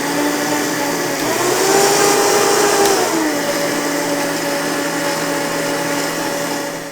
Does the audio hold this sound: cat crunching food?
no